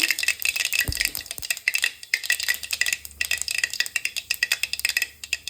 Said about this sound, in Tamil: எண்ணெய் காஞ்ச உடனே கடுகு போட்டுக்கலாம். கடுகு பொரிஞ்சிருக்கு.